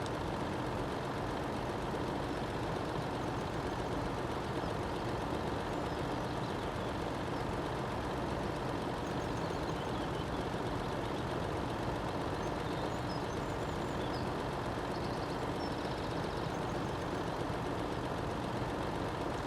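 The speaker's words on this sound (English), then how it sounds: "I've heard the truck runs automatically." A heavy truck engine in the video game Farming Simulator 13 rumbles steadily at a low, constant idle for the whole stretch, with no voices or other events breaking through.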